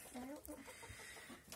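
Chickens clucking nearby in short, irregular bursts, with some faint background noise and a brief higher call near the end.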